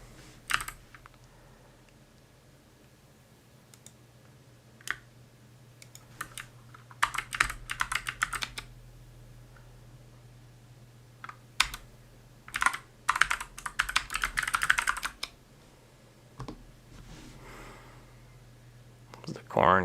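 Keys clatter on a Corne split mechanical keyboard in bursts of quick clicky typing, close and fairly quiet, separated by pauses with soft breathing in a still room.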